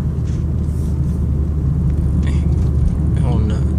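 A 2001 BMW 325i rolls along a road, its low cabin rumble steady and even, with a voice talking over it.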